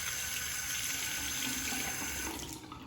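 A bathroom tap runs a steady, close stream of water into a sink to rinse a Merkur 24C XL safety razor after a shaving pass, tapering slightly at the end.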